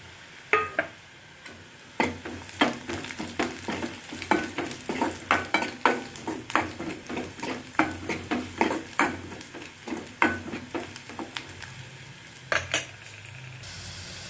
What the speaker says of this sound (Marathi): कांदा चांगला फ्राय होऊ द्या लाल होऊ द्या